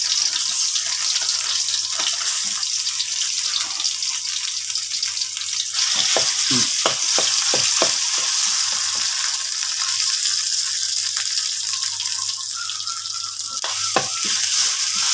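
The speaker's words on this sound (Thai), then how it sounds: "ผัดพริกมันหอมนิดนึง" Thai chili paste with shrimp paste stir-fried in a pan for a jungle curry, a constant bright sizzle with clattering spatula scrapes and taps in the middle, close and alone without speech.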